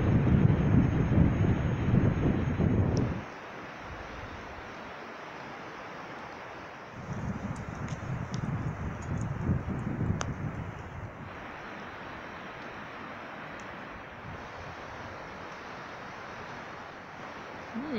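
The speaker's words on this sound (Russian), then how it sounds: "Ветер такими нахлыстами, порывами идет. И порывы довольно серьезные" Strong, gusty wind sweeps through a gorge, blowing in loud, rough bursts that buffet the microphone, dropping to a low hiss between gusts.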